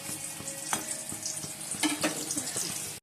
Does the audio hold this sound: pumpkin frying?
yes